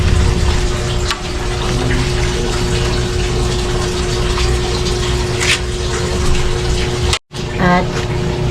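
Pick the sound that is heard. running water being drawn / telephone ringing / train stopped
running water being drawn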